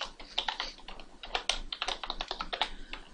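Rapid, uneven keystrokes clatter on a computer keyboard as code is typed, a steady run of close, crisp taps with no talking.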